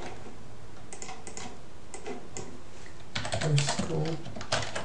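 Keys on a computer keyboard tap in short, uneven bursts, sparse at first and then a quicker cluster, close and moderately loud, with a brief spoken word mixed in.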